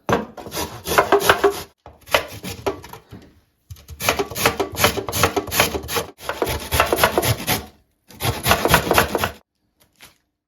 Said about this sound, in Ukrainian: Беремо одну середню морквину і натираємо на дрібненьку терку.